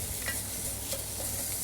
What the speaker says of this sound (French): En prenant soin de remuer régulièrement pour ne pas que ça accroche au fond de la casserole.